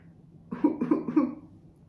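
A person coughs into the crook of the elbow: three quick, close, muffled coughs in a row, with quiet before and after and no talking.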